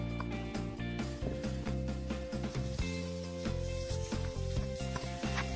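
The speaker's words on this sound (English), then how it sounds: "I'm gonna take the valve stem out with my trusty valve stem remover tool" A valve stem remover tool works the valve stem out of an Ariens mower tire in a shop, giving dense clicking and ratcheting mechanical sounds over a steady hum, close and continuous.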